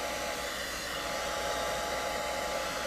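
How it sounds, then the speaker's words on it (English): A hair dryer blows steadily, a constant close whooshing hum with no pauses. "I ended up with using a hairdryer"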